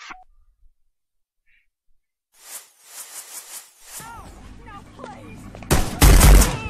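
Pistol gunfire in the Hitman Blood Money video game: a few sharp shots early on, then a loud, dense burst of shooting near the end, with game sounds and a voice in between.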